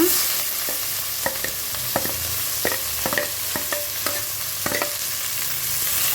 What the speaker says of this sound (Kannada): ಹಾಕ್ಕೊಂಡು ಚೆನ್ನಾಗಿ ಫ್ರೈ ಮಾಡ್ಕೊಳ್ಳೋಣ ಇದನ್ನು ಆಯಿಲಲ್ಲಿ ಈರುಳ್ಳಿ ಮತ್ತು ಹಸಿಮೆಣಸಿನ್ಕಾಯಿ